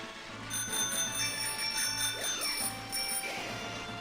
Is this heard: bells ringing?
yes